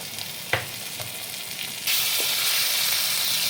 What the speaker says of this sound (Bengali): এরপরে দিচ্ছি সর্ষে বাটা,